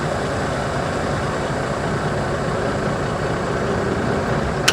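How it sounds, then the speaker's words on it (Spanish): Heavy truck tractor diesel engine running in first gear as the clutch is let out against the parking brake, a steady, loud, close drone that holds constant throughout with no speech. "I'm gonna release the clutch until I feel the little tug and the tractor it shouldn't move"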